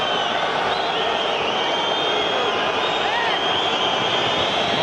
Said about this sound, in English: Not sure why the crowd is whistling.